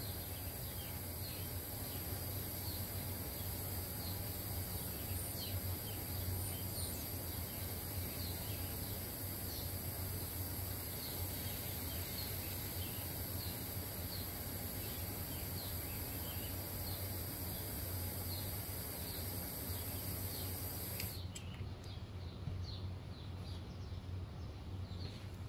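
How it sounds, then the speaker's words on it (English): Outdoor birdsong mixed with insect or cricket chirring, a steady faint chorus in the background that continues for most of the stretch before cutting off abruptly near the end, with no talking. "Listen to those birds."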